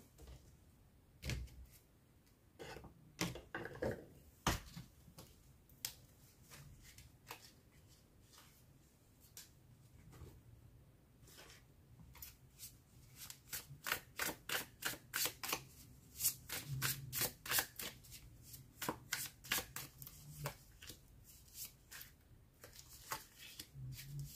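Tarot cards being shuffled before a reading, a long run of crisp riffling slaps and flutters, irregular at first then quickening into rapid bursts, close and fairly quiet with no talk.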